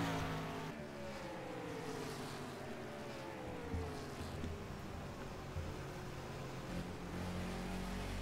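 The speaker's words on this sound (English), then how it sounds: "You hear him really playing with the throttle, trying to be smooth." A race car engine in a sim racing game at Phoenix, steady droning revs with the throttle eased on and off, pitch sliding down and rising again, continuous and fairly faint.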